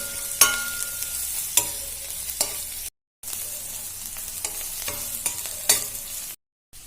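Ginger and garlic frying in a pan while being stirred, a steady sizzle broken by repeated scraping strokes of a spoon at regular intervals, close and fairly loud, with two brief silent gaps and no voices.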